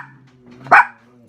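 A single sharp dog bark rings out close and loud, preceded by a soft low whine or hum, with no talking.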